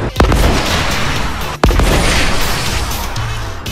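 A rocket explodes in a video game: sharp booming blasts at the start and midway, each followed by loud rumbling noise, with a softer thump near the end.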